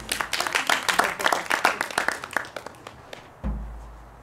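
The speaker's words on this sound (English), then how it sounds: "he deserves a round of applause for that" Applause at a junior music recital, with individual claps from a small audience ringing out distinctly at first, then thinning and fading to quiet before a low thump near the end.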